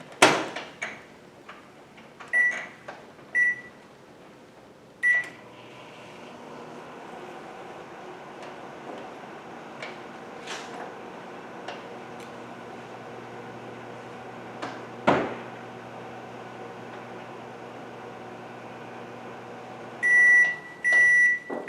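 A microwave oven heating marshmallows, beginning with a few sharp button beeps, then a steady low hum for about fifteen seconds with small clicks, and ending in a clear run of completion beeps.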